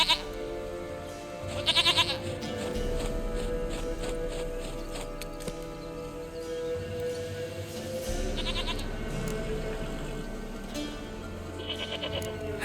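A goat bleats in The Witcher 3 video game, several wavering bleats over a continuous outdoor game ambience with music-like tones.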